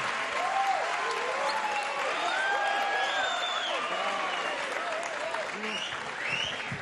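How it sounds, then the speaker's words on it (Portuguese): A studio audience at the Brazilian TV talk show Altas Horas applauds a backing vocalist in a steady, full roar of clapping, with cheers and scattered voices rising through it. "gostaria de pedir para a plateia uma salva de palmas para Ludmila Mazzucati, backing vocal do Nat Roots."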